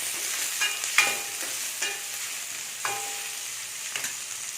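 Chopped onions sautéing with a little salt in a pan for a Tamil kadalai curry, a steady soft sizzle broken by several scraping stirs of a spoon, close and fairly quiet with no voices.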